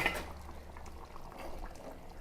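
Quiet bubbling of a fish curry soured with kudampuli simmering in a pot on the stove, soft steady gurgles with no voices.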